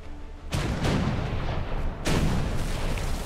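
Heavy naval guns on a warship in the video game War Thunder fire two deep booming shots about a second and a half apart, each followed by a rumbling roar, loud and close with no talk.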